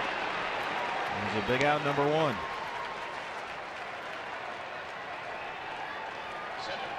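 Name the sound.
baseball crowd applauding at Dodgers game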